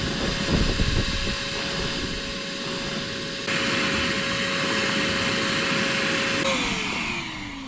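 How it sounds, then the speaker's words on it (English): Vacuum cleaner sucking up debris inside a bass boat, a loud, steady close-up roar with a sustained whine that shifts pitch partway through and dips at the end. "We're gonna have a lot of vacuuming to do."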